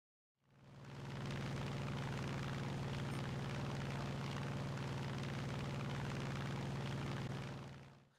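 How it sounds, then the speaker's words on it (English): Engines of a Junkers 88 A4 bomber in the video game War Thunder give a steady, low droning roar that fades in, holds evenly for several seconds, then fades out, quiet overall. "a lightly armored Junkers 88 A4 bomber can be eliminated via fire quite quickly"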